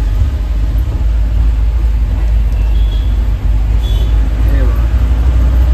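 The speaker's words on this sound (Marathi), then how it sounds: "बघा ट्रॅफिक बघा, मध्ये फक्त तुम्ही मध्येच घालतात गाड्या." Road traffic on a bridge along the Vashi route, heard from inside a moving Bolero: a loud, steady rumble of engine and road noise with a couple of faint horn-like tones.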